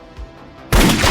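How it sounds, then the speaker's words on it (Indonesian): Gunshot in a film, a single sudden loud blast that cuts in sharply after a stretch of quiet rumbling background. "untungnya Lai tepat waktu menembak kontestan itu"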